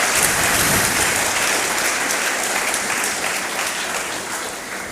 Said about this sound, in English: Shall we give a round of applause to our guests?